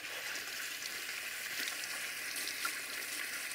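A split leek rinsed in water, making a steady, even hiss of running and splashing water that holds throughout at moderate loudness, with no voices.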